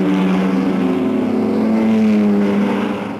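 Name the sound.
race cars starting at Le Mans 1955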